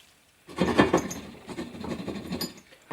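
Chicken cassoulet ingredients in chicken stock being gently stirred in a pot, a soft continuous scraping and shuffling that starts abruptly and carries on steadily without talk.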